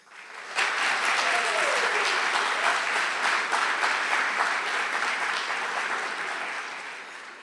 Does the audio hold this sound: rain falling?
no